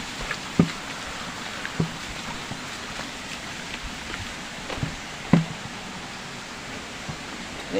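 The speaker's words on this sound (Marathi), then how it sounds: "हा आमचा छोटासा धबधबा आहे जो गुरांसाठी फेमस आहे" A small village waterfall in the Konkan countryside where cattle are bathed in the rainy season, with rainwater running off the fields. It makes a steady, broad rushing wash broken by a few sharp splashes and knocks.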